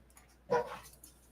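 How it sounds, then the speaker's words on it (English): Dogs at a door give a single short bark or whimper around the middle, fairly faint and somewhat distant, with quiet room tone before and after. "I think I hear my dogs trying to open the door."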